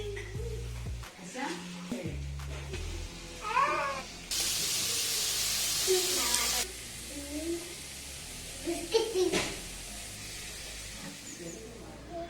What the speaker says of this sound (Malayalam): അങ്ങനെ വെള്ളം തിളച്ചിട്ടുണ്ട്.